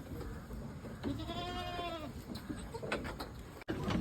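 A newborn full-blood Boer goat kid bleats in a quavering cry on a Batangas farm, heard close over steady outdoor background noise.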